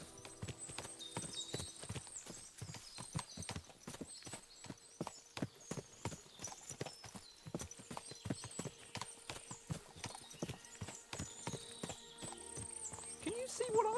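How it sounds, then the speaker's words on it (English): Many horses' hooves clip-clop at a quick, uneven trot in the video game Kingdom Come: Deliverance II, close and fairly loud, with occasional snorting and whinnying over the steady rhythmic beat. "What a lot of horses!"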